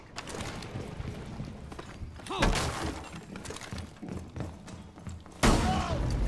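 Shotgun blasts during a close-quarters rush in Rainbow Six Siege, a few sharp booming shots scattered over clattering, breaking debris and footsteps, with a faint voice underneath.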